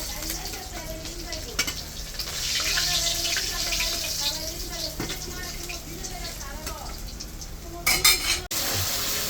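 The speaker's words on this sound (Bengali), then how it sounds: "বাকি মাছগুলি এইভাবেই লাল লাল করে ভেজে নিই" Steady sizzling of rohu fish pieces frying in hot oil until reddish-brown, with occasional stirring clatter and a brief burst of running water near the end.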